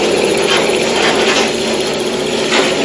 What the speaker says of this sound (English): Motor's still running.